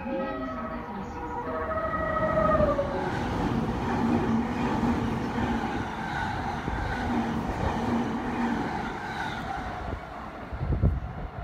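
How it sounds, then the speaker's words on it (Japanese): A delayed JR Yokosuka Line train bound for Chiba rumbles into Shin-Kawasaki station, its deep low drone mixed with whining tonal hums and a brief clunk near the end, heard close by. "一番線には遅れておりました千葉行きの列車到着いたします"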